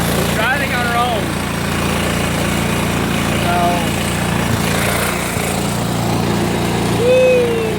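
A Cub Cadet HDS lawn tractor engine runs steadily while the machine drives, a continuous loud drone with faint chirping sounds above it and no talk.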